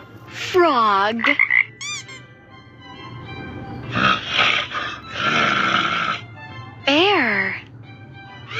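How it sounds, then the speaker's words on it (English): A cartoon frog croaks in a children's animal cartoon, with several loud, close, rippling croaks and swooping calls in bursts separated by brief pauses. "Frog."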